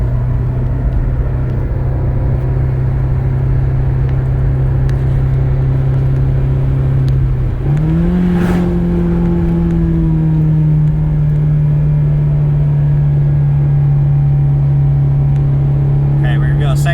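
Honda Civic Si FA5 with a tuned engine pulling hard in second gear from about 4,500 RPM, a loud sustained in-cabin engine drone that climbs, briefly shifts pitch midway, then holds steady.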